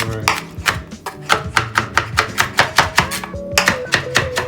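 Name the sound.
chopping smoked onions with a knife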